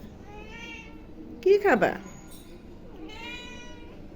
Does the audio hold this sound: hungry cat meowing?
yes